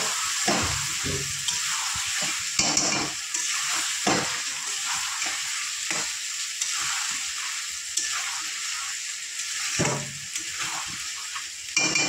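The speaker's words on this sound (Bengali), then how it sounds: "এবার আদা পেঁয়াজ রসুনটা আমি ভালো করে কষিয়ে নেব আলুর সাথে" Ginger, onion and garlic sautéed with potatoes in a pan for a magur fish curry, a steady loud sizzle with repeated spatula scrapes and stirring strokes, close up and continuous with no talk.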